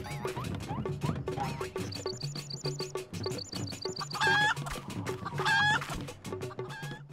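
A chicken clucking in the video game Final Fantasy XIV, rapid rhythmic clucks mixed with game sounds, sharp chirps and a rising squawk-like call in the second half.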